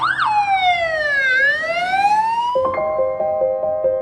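An ambulance siren wails loudly and close by, a rising and falling sweep that shifts into a rapid, stepped two-tone yelp, steady and dominant with faint traffic beneath.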